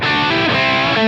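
A Les Paul guitar played through a distorted Line 6 Placater Ultimate amp preset gives a brief burst of dense, sustained overdriven chord tone, loud and close.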